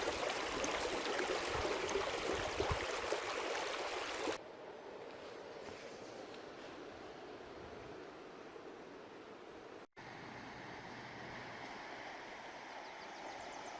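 Steady rushing water of a river flowing over rocks on Vancouver Island's Juan de Fuca trail, a continuous close wash that shifts in tone partway through, with no voices.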